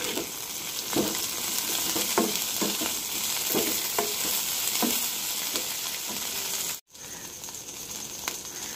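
Capsicum sizzles and fries in a pan with onion and garlic for a dhaba-style paneer do pyaza, a steady hiss broken by regular stirring scrapes, with a brief drop out near the end.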